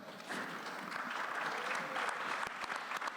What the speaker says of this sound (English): One more round of applause for our guests